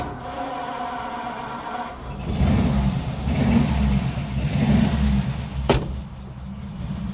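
A 1950 Ford Custom Deluxe convertible's engine cranks over and catches after a quiet start, then settles into a steady, rumbling run nearby, with a sharp click near the end and no talking.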